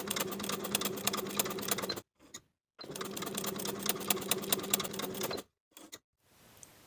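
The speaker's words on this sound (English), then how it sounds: "Between the notches, we're going to sew basting stitches, leaving tails of thread so we have tails to pull for gathering." A sewing machine running basting stitches across dress fabric in two sustained rapid-stitching runs, each a couple of seconds long, separated by brief pauses with faint handling sounds, close and alone.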